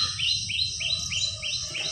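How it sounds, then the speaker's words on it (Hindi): Birds at a pond in the Chandra Shekhar Bird Sanctuary in Unnao chirp clearly, repeating a quick rising tweet about every half second over a low outdoor background rumble. "और पक्षियों की चहचहाहट, उनकी गूंज आप सुन सकते हैं।"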